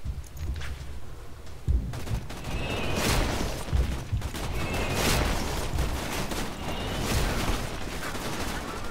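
Turret gunfire aimed at descending bots in Borderlands 2 rattles in dense bursts, with repeated sharp blasts and booms over a steady roar of battle and no talking.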